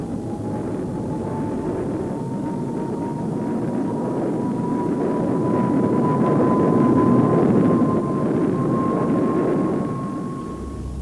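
An A-4 (V-2) rocket climbs after launch with a continuous, loud roar and a slowly rising whine that swell toward the middle and then ease off slightly.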